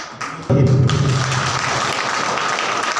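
Seminar audience clapping starts abruptly after a brief pause and continues as a steady, moderately loud patter, with a low murmur of voices underneath at the start.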